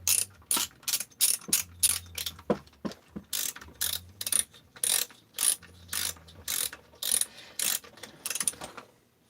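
A 13mm socket wrench ratchets in quick repeated strokes, each a crisp clicking burst with brief gaps between, close and clear with no talk.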